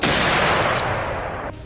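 A rapid burst of gunfire during a wild boar hunt in a swamp, loud and close, the shots blurring into one dense roar that cuts off abruptly near the end.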